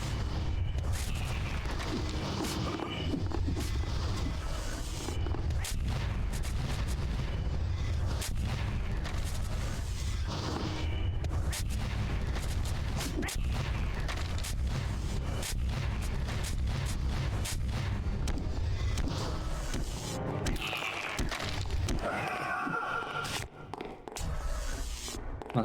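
Shotgun blasts boom in the retro platformer Unepic, heavy thumping shots over a dense, continuous din of game music and rumbling effects throughout.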